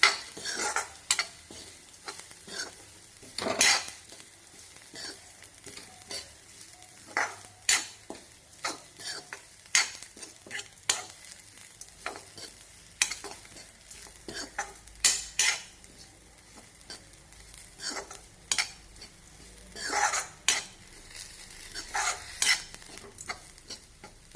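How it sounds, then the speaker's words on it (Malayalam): Banana flower thoran with grated coconut, garlic, curry leaves and bird's eye chilli stirred in a pan, with repeated sharp spoon scrapes and clinks over a soft sizzle, close and alone. "ഒന്ന് ഇളക്കി കൊടുക്കണം"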